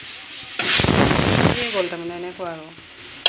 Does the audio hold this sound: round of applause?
no